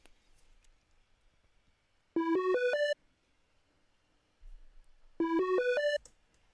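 A bright synth lead plays two short rising four-note phrases, each a quick ascending run of clear tones, separated by a pause with faint low thumps.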